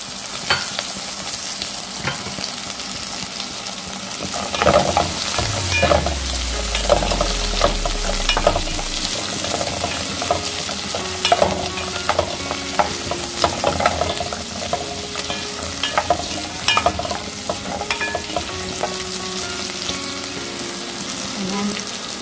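Potatoes tipped into a pot for broccoli potato soup and stirred: a soft sizzle with scraping spoon strokes and light clatter running throughout, plus a brief low thump as the potatoes go in.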